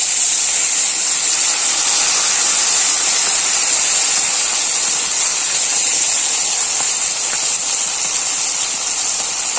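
Water poured into a hot pan for a Bengali vegetable dish, a loud, continuous bright hiss of steam and sizzle held steadily throughout with no talk over it.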